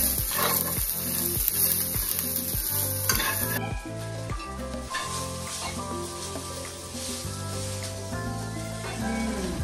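Mixed vegetables, including carrots, frying in a pan with ghee give a steady sizzle throughout, partly masked by louder rhythmic background music.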